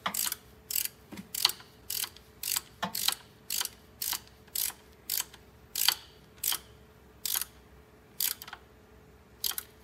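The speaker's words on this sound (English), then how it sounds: "I'm just gonna use my ratchet and my 8mm socket, and we're just simply gonna snug it up" A hand ratchet with an 8mm socket snugs a bolt on the power transfer unit of a 2020 AWD Ford Escape, sounding as bursts of quick clicking pawl strokes with short pauses between, close and clear, with no voices.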